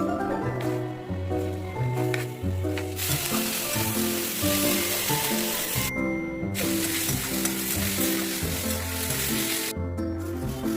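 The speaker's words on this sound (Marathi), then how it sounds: "आता आपण तेलात कांदे टाकूया आणि सोनेरी रंगापर्यंत." Onions frying in hot oil for a spicy Saoji mutton curry, a steady crackling sizzle running close and continuous under loud background music, with no talk.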